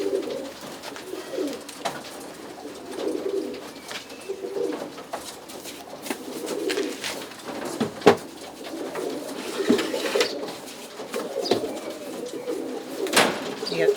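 Roller pigeons coo softly and repeatedly inside mucky breeding boxes, a close, low, throaty burble with occasional faint clatter.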